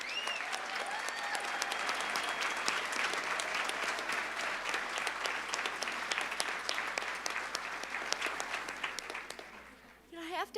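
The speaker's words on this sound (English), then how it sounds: "let's give these students, the friends and family who helped pin them, and the faculty who supported them one more round of applause" An audience at a Montana State University nursing pinning ceremony gives a sustained round of applause for the students, steady clapping from many hands over a speaking voice, easing off near the end.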